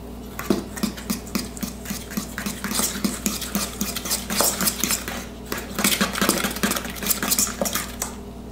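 Sugar being mixed into brownie batter in a bowl, with rapid, continuous clinks and scrapes of a utensil against the bowl in an uneven rhythm, close and moderately loud, with no one speaking.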